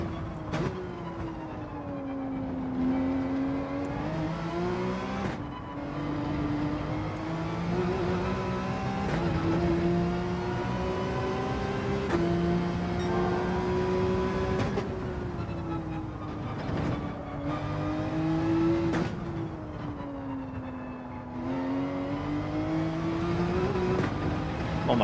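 A race car engine in Gran Turismo 7, running on sport soft tyres during a daily race test, revs up and down in repeated sweeping climbs and drops, loud and close, with short pauses between gear changes.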